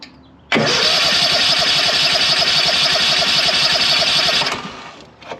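A lawn mower engine bursts into life after a faint lead-in, holding a loud, steady high rev for about four seconds before cutting back and fading, close by with no talk.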